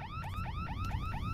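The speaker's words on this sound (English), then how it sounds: "What's with the alarm?" Warbling electronic alarm in a horror video game, cycling in rapid repeated rising sweeps about every fifth of a second, loud and continuous over a low rumbling background hum.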